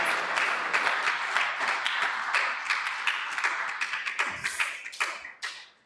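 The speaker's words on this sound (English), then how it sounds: "Let's give another round of applause to Vrindavan." Audience applause at a live spiritual talk, a sustained burst of many hands clapping close by that thins out and fades toward the end.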